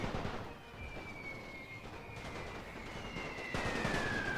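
Sustained cavalry rifle fire in a First World War strategy game, a dense crackle of distant volleys rolling continuously with a thin high whine over it, steady and moderately loud with no speech.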